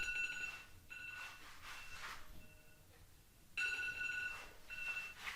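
A phone or clock reminder alarm rings quietly in a home kitchen during pickle canning, sounding as repeated bursts of electronic beeping with pauses between them and soft room noise underneath.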